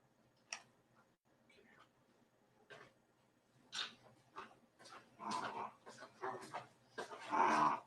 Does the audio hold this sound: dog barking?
yes